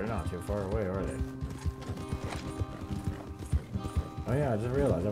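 Horses clip-clopping in Red Dead Redemption 2, a steady run of hoofbeats through the whole stretch, mixed with voices and in-game sound.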